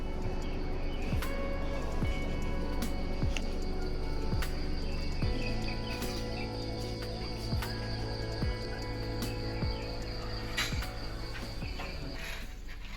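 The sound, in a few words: birds chirping in the Vietnamese countryside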